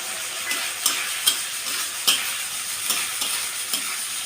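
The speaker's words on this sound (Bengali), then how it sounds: "আলু দিয়ে একটু ভালো করে কষিয়ে নেব।" Potatoes fry in a spice paste for a pufferfish bhuna while a utensil stirs them, sharp scrapes and knocks landing every half second or so over a constant close sizzle.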